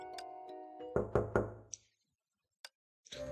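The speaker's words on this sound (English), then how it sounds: "person knocking on the door was persistent" Three sharp knocks in quick succession, then a lone knock after a pause, close and distinct over a faint background hum: knocking on a door in the video game Honkai Impact.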